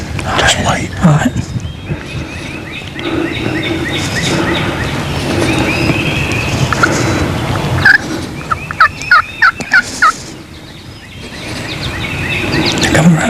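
Wild turkey hens call while approaching, producing rhythmic bursts of yelps that grow clearer and closer toward the end, with hushed human voices talking underneath.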